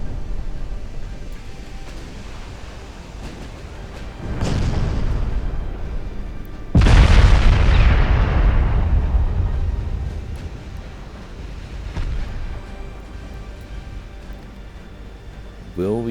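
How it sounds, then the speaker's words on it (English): Two heavy booming blasts from torpedo hits in a naval warship battle game set among pre-dreadnought battleships, the first at about four seconds and a louder one near seven seconds, each rumbling away slowly under faint background game noise. "And there are incoming torpedoes."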